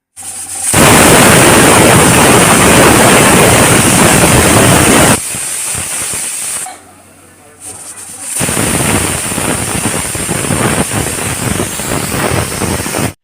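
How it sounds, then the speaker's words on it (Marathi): A pressure cooker boiling dal and maida flour vents loudly: a long, harsh steam whistle blast, a brief pause, then another rushing hiss close by, with no talking. "तर आता आपण दहा ते बारा शिट्ट्या काढून घेऊया"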